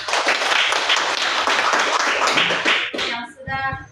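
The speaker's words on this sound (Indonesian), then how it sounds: "Mari kita beri tepuk tangan" An audience at an Indonesian school event on positive culture claps hands together in a loud, full burst that fades near the end, leaving a few scattered claps and a brief voice.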